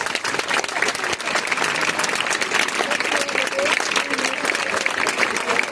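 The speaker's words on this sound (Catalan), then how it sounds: "un fort aplaudiment" During the Festa Major proclamation in Agost, the crowd breaks into loud, sustained clapping for a woman being honoured, close and dense with a murmur of voices mixed in.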